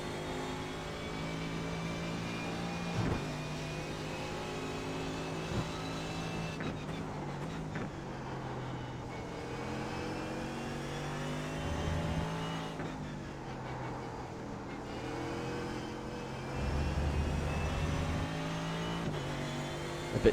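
A Mercedes AMG GT3 race car engine in iRacing at Sebring drones steadily as it revs up and down through gear changes, with a few throttle lifts and a short low rumble near the end.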